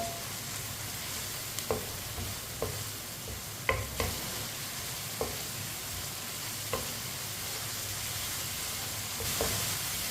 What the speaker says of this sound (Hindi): ऐसे ही चम्मच चलाते हुए मसालों को भी पकाना।